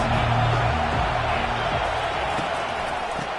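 A roaring college football stadium crowd, a dense continuous wall of noise heard from a distance, with a commentator talking faintly underneath.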